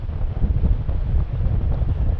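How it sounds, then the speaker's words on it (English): Strong wind buffets the microphone atop a granite tor on Dartmoor, a steady low rumbling roar that fills the whole clip with gusty fluctuations and no voices. "It's a bit windy when you're up on top of the tor"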